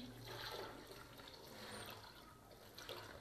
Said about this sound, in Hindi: तो मैं इसमें डाल रही हूँ पानी।